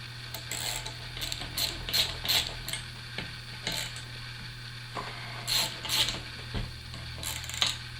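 A ratchet clicks in quick bursts of rapid pawl ticks, close and clear, while bolts are removed from the head of a Craftsman air compressor during a rebuild, with a steady low hum underneath and no talk.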